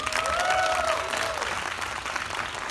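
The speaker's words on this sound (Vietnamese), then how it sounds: "Xin một tràng pháo tay cho đạo diễn Nguyễn Quang Dũng." An audience applauds for director Nguyễn Quang Dũng at the premiere of the film Đất Rừng Phương Nam, a dense sustained wash of clapping with a voice heard over the start.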